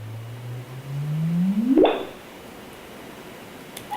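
A sonified gravitational-wave signal from a merger of two neutron stars: a low steady tone that rises into a rapid upward chirp and ends abruptly with a click, heard alone over a faint hiss of noise.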